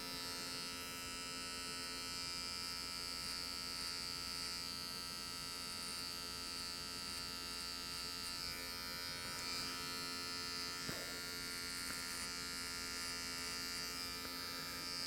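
Electric hair clippers set to their shortest position buzz steadily and close up while cutting a skin fade at a barbershop, giving a continuous high electric hum with no talking.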